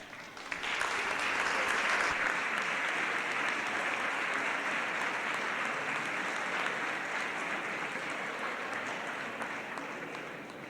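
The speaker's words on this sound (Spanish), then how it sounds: "a quienes invitamos a pararse para recibir un cálido aplauso" Warm, sustained applause from a standing audience honouring statistics graduates marking 50 years since graduating, at an anniversary ceremony for a statistics degree programme; steady dense clapping throughout, easing slightly toward the end.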